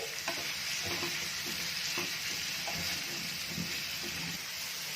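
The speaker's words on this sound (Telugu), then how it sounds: "ఒక వన్ మినిట్ ఇలా టాస్ చేసి ఆపేస్తున్నాను" Spices, including chili powder and garam masala, tossed and fried briefly in a pan: a quiet, even sizzle with soft scraping taps from stirring throughout.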